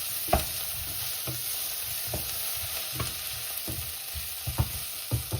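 Garlic sizzles steadily in hot oil in a pan while a utensil stirs it, giving occasional soft scrapes and knocks over the constant frying hiss, close by with no talking.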